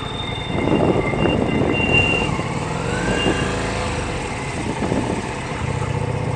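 A freight train rumbles through a crossing, a low broad roar with some tonal squeal and hum, swelling early then settling into a continuous steady passage nearby.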